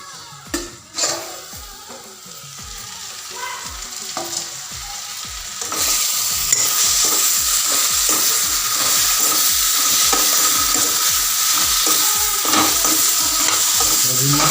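Tomato masala with salt, chili and coriander fries in a pan under a steady loud sizzle, with a spoon tapping and scraping in a regular rhythm of strokes, close and without speech.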